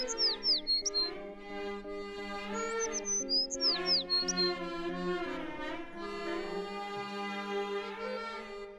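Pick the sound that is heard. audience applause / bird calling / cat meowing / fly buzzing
bird calling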